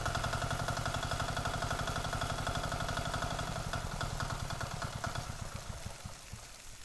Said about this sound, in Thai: เครื่องยนต์14แรงม้านะคะ